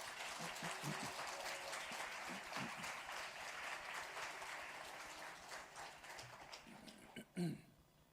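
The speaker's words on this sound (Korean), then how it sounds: "뜨거운 박수로 격려하겠습니다" Church congregation applauding during a Sunday worship service praise festival, steady dense clapping filling the room for several seconds before thinning out at the end.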